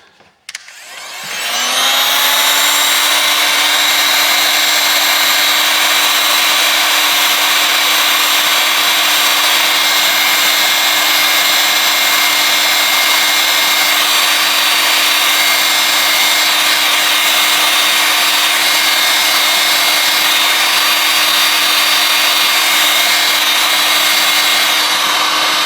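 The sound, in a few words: heat gun heating phone to loosen battery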